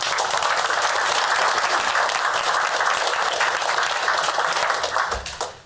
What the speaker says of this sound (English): I'd ask for a quick round of applause for those 2 people who have just been named